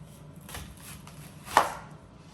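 A knife slices through an onion into rings on a board, giving one crisp close cut with a few fainter taps before it, with no talking.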